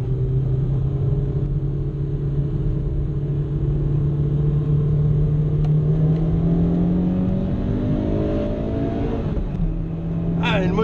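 A Peugeot 106 Rallye engine hums steadily, then climbs in pitch as it accelerates, with a brief dip like a gear change near the end.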